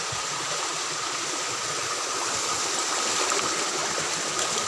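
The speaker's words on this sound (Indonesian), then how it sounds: "Ini masih jalur sungai yang kemarin guys ya." A forest river runs steadily along its wild jungle course, a continuous broadband rush of flowing water that stays close and even throughout with no voices over it.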